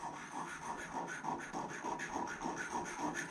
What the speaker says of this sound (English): give it a few rubs until we feel a nice burr